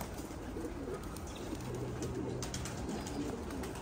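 Domestic pigeons coo softly at close range over a steady background hum, their low murmuring calls repeating through the stretch.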